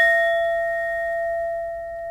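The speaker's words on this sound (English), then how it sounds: "So let me ring the bell, guys." A single bell rings once with a clear, sustained tone that slowly fades over a couple of seconds, alone and close.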